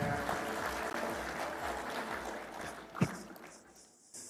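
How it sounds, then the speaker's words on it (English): A conference audience applauds the Vice Chair at a devolution gathering, a dense stretch of clapping with a sharp knock near the end before it tails off and drops away. "Another round of applause for our Vice Chair."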